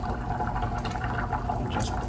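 Thick mushroom gravy is poured over a meatloaf, a close, soft liquid splashing and gurgling that runs continuously for a couple of seconds with no talking.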